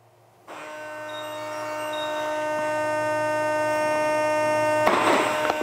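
A Hangar 9 MB339 RC jet model powers on with a steady electronic hum and faint buzzing tones that persist throughout, followed by a brief rustling burst near the end.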